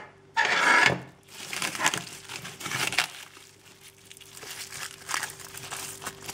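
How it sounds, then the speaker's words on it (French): Plastic cling film peeled off a white chocolate and orange curd dessert insert makes a loud crinkling tear, followed by quieter scattered crackles and rustles of the film being handled up close. "Je retire le papier film."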